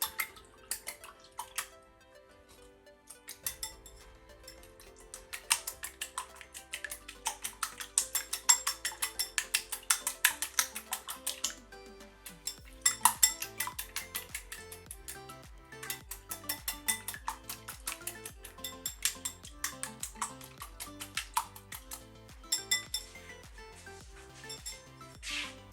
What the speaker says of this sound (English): I just cracked 2 eggs in my bowl, and I'm gonna put tiny bit salt in here, and I'm gonna beat the eggs